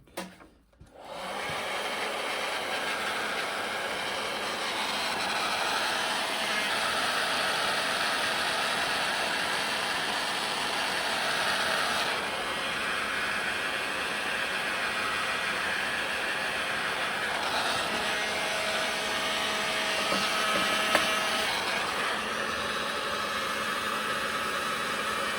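A Black & Decker HG992 heat gun shrinks heat shrink tubing onto trailer tail light wiring, blowing a steady, loud, broadband whoosh that runs without a break for about 25 seconds with no talking.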